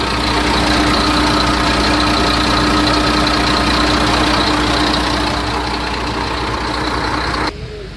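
A second-hand Bharat Benz diesel truck engine idles steadily with a loud, rough, knocking rumble that continues unchanged until it drops off abruptly near the end.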